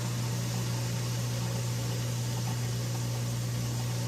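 A newly installed kitchen garbage disposal runs steadily, giving a constant low motor hum with a smooth whirring hiss. It is even and unbroken the whole time.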